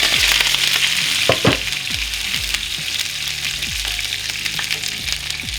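Meatballs and garlic sizzle steadily in a hot pan, a close, continuous fry with a few sharp clinks and stirring scrapes, and no talking.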